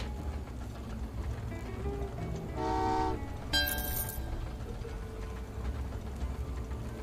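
Trains in the Train Valley 2 game rumble softly beneath two short horn toots, the first a mellow hoot, the second a brighter, sharper whistle, over a low continuous hum.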